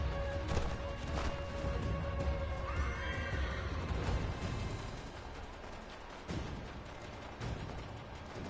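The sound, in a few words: horse neighing in Assassin's Creed III video game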